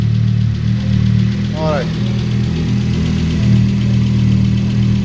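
A rebuilt Audi RS3 DAZA five-cylinder engine idles steadily and loud at close range, with someone speaking briefly over it and a short tonal whine near the middle.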